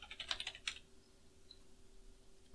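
Quick burst of keystrokes on a computer keyboard as a passphrase is typed for TrueNAS disk encryption, a close, clicky run of taps in the first second, then only a faint steady room hum.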